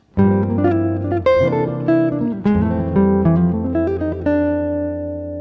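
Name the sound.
jazz electric guitar lick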